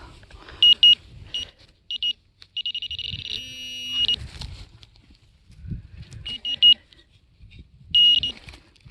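A metal detector sweeps over a wristwatch and gives several sharp, high electronic beeps in short bursts and one longer steady tone, with soft handling noise and quiet murmuring between signals.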